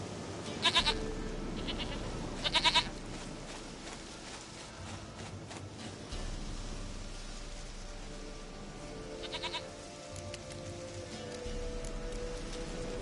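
A goat in The Witcher 3 video game, set in Velen, bleats in short bursts several times over steady rain, the calls moderately close and spaced apart.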